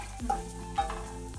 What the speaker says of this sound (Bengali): রসুনটা কিছু ভাজা ভাজা করে নিলাম